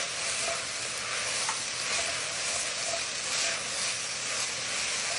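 Ginger and garlic sizzle and are stirred in a hot frying pan, giving a steady, close, dense hiss with faint scraping throughout and no talk.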